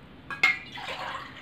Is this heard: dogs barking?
no